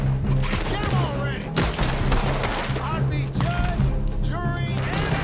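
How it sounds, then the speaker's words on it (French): Dense, rapid gunfire in the Red Dead Online video game crackles in close, overlapping bursts that keep going without a break, while a player talks over the shooting. "Attends, ça tire."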